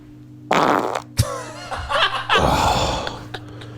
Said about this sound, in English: Hangover farts are the worst.